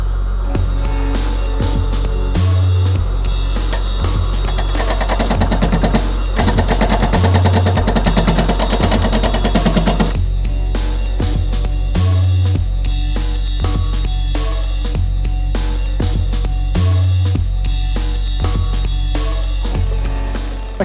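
A wood lathe spins steadily while a bowl gouge trues up a rough bowl blank, giving a loud continuous machine drone with rhythmic cutting chatter and a faint high whine for the first half.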